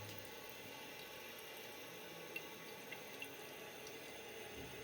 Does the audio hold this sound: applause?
no